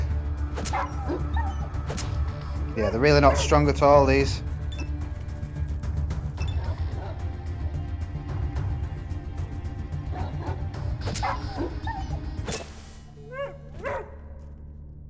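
Dogs in the video game Atom RPG yip, whimper and bark in bursts, with a loud whining stretch early and short yelps near the end, while someone talks over them.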